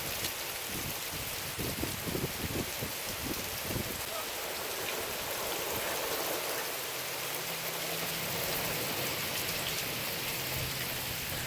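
Heavy, steady rain pours down outside a house, driven by a north wind and blowing in under a porch roof, a dense continuous hiss with some brief knocking early on and faint sounds underneath.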